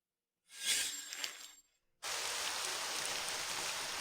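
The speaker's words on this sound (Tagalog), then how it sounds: "Napakalakas ng ulan." Heavy rain pours down as a dense, loud, steady hiss that starts abruptly and continues unbroken, following a brief earlier burst of noise.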